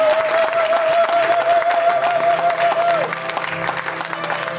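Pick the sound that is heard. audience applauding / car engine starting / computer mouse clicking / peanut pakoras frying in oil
audience applauding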